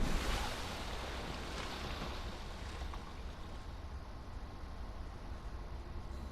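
A diver plunges into the water in Subnautica Below Zero, followed by a steady, loud underwater rush and wave-like wash that fills the whole stretch without fading.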